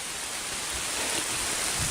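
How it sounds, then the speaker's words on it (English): Steady outdoor rain hisses as a dense, even wash of noise, close and moderately loud, with no voices. "The rain really caught me off guard."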